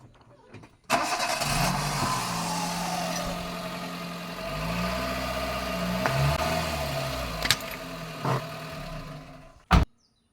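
A vehicle engine starts with a sharp burst near one second, then idles steadily with some revving at close range. A few brief knocks follow before it shuts off abruptly near the end, with no talk.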